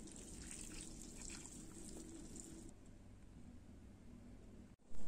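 Boiling water pours in a steady trickling stream over dry rice vermicelli in a bowl, a soft continuous splash that fades after a few seconds, followed by a brief knock.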